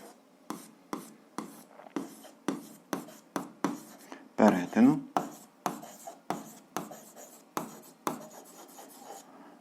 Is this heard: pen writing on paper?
yes